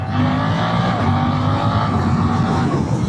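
A Suzuki GSX-8TT motorcycle engine is accelerating hard, giving a loud, steady, throaty engine roar with rising pitch and heavy wind rush throughout.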